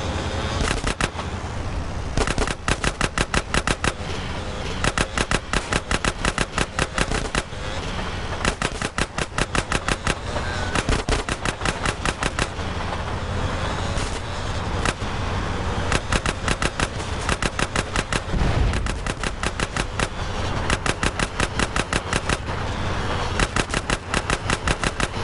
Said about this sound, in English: I'm about to pop these fools! Roll up on them, CJ, so I can get a shot